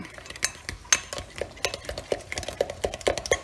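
A fish sauce base stirred in a bowl, with a string of quick clinks and scrapes of a utensil against the dish, irregular and close up, each one short and light.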